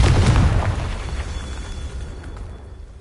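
The Confringo blasting spell in Hogwarts Legacy goes off as a loud, close, booming explosion that bursts at once and then rumbles away over about three seconds.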